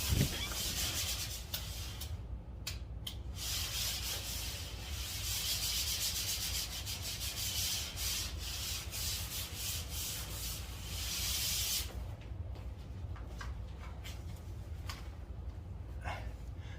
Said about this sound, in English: It is sanding day